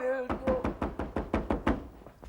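A door is pounded in a radio police drama: a voice speaks briefly, then about eight heavy, evenly spaced bangs follow in quick succession, loud and close.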